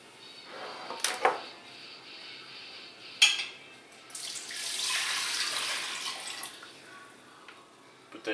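Water runs from a kitchen tap into a sink for a few seconds, a steady hissing stream preceded by a couple of sharp clinks of dishes or utensils.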